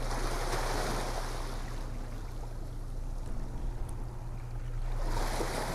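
Sea water churned and foamed by the stabilizer fin of a Sirena Yachts 78 motor yacht during a sea trial, a steady broadband rush with a low engine hum beneath, no talk.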